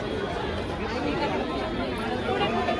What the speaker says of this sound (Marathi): आज खूप गर्दी आहे काहीतरीच गर्दी आहे